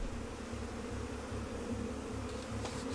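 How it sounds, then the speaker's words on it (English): Many bees buzzing close by, a loud dense drone with a pulsing, fluttering rhythm that carries steadily throughout, with no talk over it. "There's a bee right on your nose."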